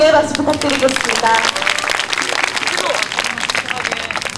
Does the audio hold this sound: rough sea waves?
no